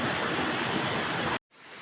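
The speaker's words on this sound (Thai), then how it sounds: "นี่ครับเป็นด้านทางล่างของน้ำตกเอราวันครับ" Lower section of Erawan waterfall pours as a loud, dense, steady rush of falling water, cutting out abruptly before resuming more softly.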